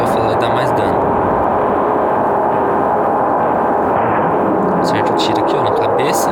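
Shotgun blasts from a 12-gauge fired at close range at a giant boss in Resident Evil 4 mobile, heavy booming shots within game noise, under steady talking throughout.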